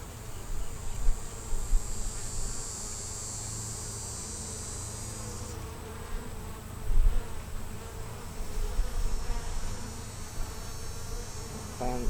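Honeybees hum steadily around an open hive frame during a small colony split, a dense close buzz that swells and dips, with occasional louder passes of bees near the ear.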